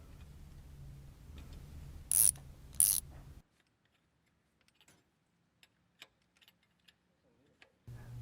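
A ratchet tightens a coolant temperature sensor, sealed with a bushing and PTFE paste, into the passenger-side cylinder head during a Holley Sniper EFI install. Two sharp, close clicks sound over a low hum, then near silence with faint ticks.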